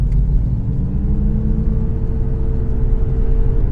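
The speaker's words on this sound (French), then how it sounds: "je me place à 30 km/h, on va accélérer jusqu'à 90" A Mazda MX-30 R-EV, its rotary engine running, accelerates from 30 to 90 km/h with a steady low interior rumble and a faint rising whine, heard close and continuous.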